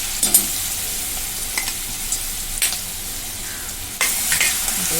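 Chili and garlic paste hitting hot oil already holding cumin, mustard seeds and curry leaves, crackling and sizzling loudly up close, with a few sharp stirring scrapes and spits.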